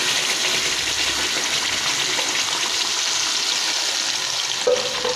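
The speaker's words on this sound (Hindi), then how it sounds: "बड़े चम्मच घी के हमने इसमें डाल दिए हैं और जो हमने लहसुन, प्याज और टमाटर की ग्रेवी बनाई हम वो शामिल कर देंगे।" Garlic, onion and tomato gravy hitting hot ghee for fish curry, giving a loud, continuous, dense frying hiss and bubbling that stays steady throughout, close up, with no voices.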